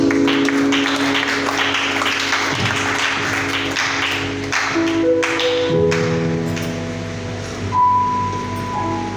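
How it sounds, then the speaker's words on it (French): A church congregation applauding and cheering in praise during a worship service in Brazzaville, Congo, a loud, dense wash of clapping that thins and fades toward the end as a tone lingers. "Nous acclamons encore pour le roi de gloire."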